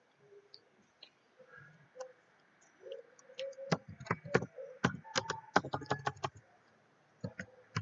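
Keys clatter in quick bursts on a nearby computer keyboard, with a brief pause and a few more taps; faint background hum throughout.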